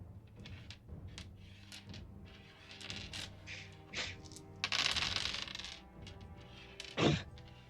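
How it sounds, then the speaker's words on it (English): During a tabletop role-playing game session, six dice are rolled, producing a series of quiet clattering and rattling bursts on a table, with a sharper clack near the end. "I need a base roll of 6 dice"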